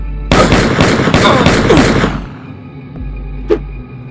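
A loud, rapid burst of automatic gunfire rattles for about two seconds, then cuts off, leaving a low hum and one sharp crack afterward.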